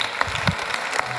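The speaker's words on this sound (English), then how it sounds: "Please do give the panel a huge round of applause." A conference audience claps for a panel at a tech startup event, a short burst of dense applause heard from the room, fairly steady with a few sharper claps standing out.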